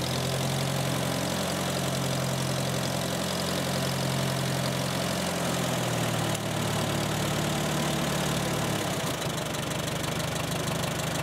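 A vintage 1945 Farmall four-cylinder tractor engine idles steadily, close by, with a low rhythmic knocking chug that stays even throughout.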